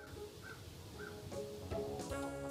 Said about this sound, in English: I just heard a crow outside.